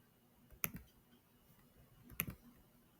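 A computer mouse clicks twice, close and quiet, the two sharp taps about a second and a half apart against a soft background hiss.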